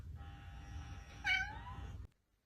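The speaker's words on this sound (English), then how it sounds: "When your cat demands treats like an aggressive tiny landlord." A cat gives a single drawn-out, whiny meow with a sharper rise in the middle, heard up close and alone before cutting off abruptly.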